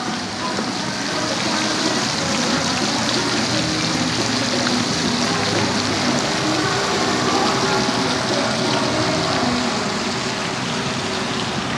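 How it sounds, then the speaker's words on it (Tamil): Continuous hissing spray of water, a steady broad wash of noise with no breaks, fairly close and even in loudness throughout. "தண்ணி விசிறுற மாதிரி இருக்குது"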